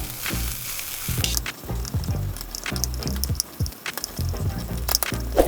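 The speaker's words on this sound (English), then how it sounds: "On fry pan, cooking oil a little bit." Oil sizzles and crackles steadily in a frying pan while a Korean-style tornado omelette cooks, with close stirring and tapping over the sizzle.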